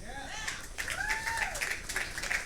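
A wrestling crowd applauds at a live match, a broad wash of clapping that continues beneath someone talking loudly over it.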